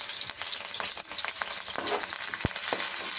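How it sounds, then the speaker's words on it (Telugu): Onion, green chilies and curry leaves fry in a pan with a bright, constant hiss of hot oil, broken by faint stirring clicks and one sharp knock, close up and without talk. "ఇప్పుడు మంచిగా ఫ్రై చేస్తుంది"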